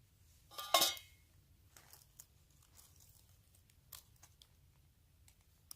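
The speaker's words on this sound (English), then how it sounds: "Give it a good stir." Dry pack trail meal stirred in its pouch on the Appalachian Trail: one loud crinkling scrape of packaging and utensil up front, then faint scattered clicks and rustles, close and quiet.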